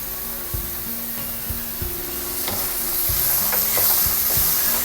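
A spinach and corn mixture with green chili and oregano being stirred in a pan on a gas stove, with soft repeated scrapes over a gentle sizzle that grows slightly louder. Nobody speaks.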